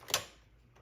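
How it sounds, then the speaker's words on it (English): The shutter of a Kodak 35 film camera is cocked, producing one short, sharp mechanical click near the start, then quiet. "Take a picture, release it, cock the shutter, and keep going."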